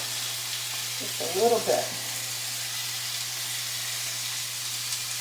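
Chicken seasoned with salt, pepper and granulated garlic browns gently in a pan with a soft, steady sizzle and a low hum behind it, while a voice speaks briefly over the frying.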